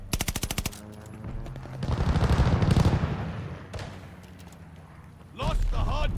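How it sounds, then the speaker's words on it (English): Strafing-run gunfire in the Call of Duty Vanguard video game, with loud bursts of rapid automatic fire and heavy rumbling impacts, broken by quieter stretches where a voice is heard, before a final loud surge. "Enemies call a strafing run."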